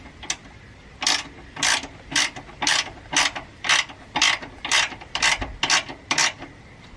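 A ratchet wrench tightens a Mac strut on an R32 sedan, its clicking pawl coming in about a dozen evenly spaced close-up bursts.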